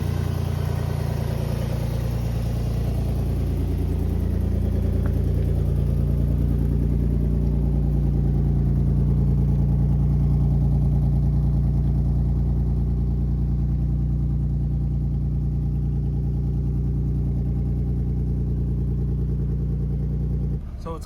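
A car engine with a possible fault idles steadily at close range, a continuous low rumble holding even throughout, with no noticeable revving.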